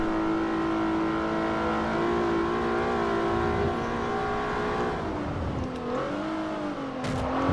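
A Renault Clio V6 mid-engine car with a 3-liter V6 in Forza Motorsport 4, engine humming at a steady high drone that dips and rises slightly as the revs shift, loud and continuous.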